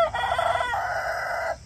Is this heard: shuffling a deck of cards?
no